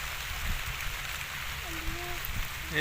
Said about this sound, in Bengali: একদম বৃষ্টি পড়তেছে